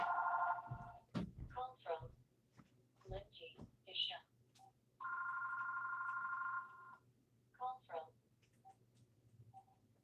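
A phone rings in steady electronic tone bursts, one near the start and a longer one midway, with someone talking in between.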